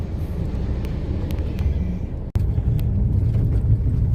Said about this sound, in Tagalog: Pangalawang jeep, ang lalaki ng mga jeep dito.